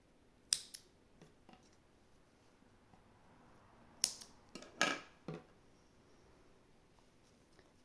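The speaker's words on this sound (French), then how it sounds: "Les fils rouges, vous pouvez les couper." Scissors snipping red crochet yarn, several crisp close cuts in scattered bursts, some in quick pairs, against a quiet background.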